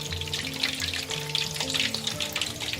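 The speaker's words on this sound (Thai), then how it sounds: "เราจะทอดนะเป็นกรอบนี้เลยค่ะ" Pork leg deep-frying in hot oil until crispy skin forms, a steady dense sizzle and bubbling crackle running continuously at close range, with no talking.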